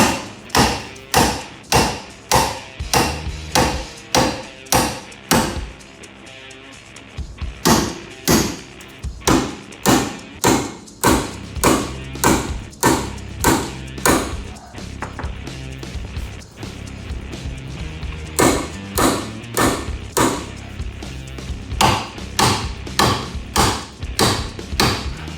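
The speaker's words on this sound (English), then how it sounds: "So, we are hammering something." Thick metal is struck by a hand hammer in fast, regular blows, each a sharp close thud. The bursts of strikes are split by brief pauses, with no voices.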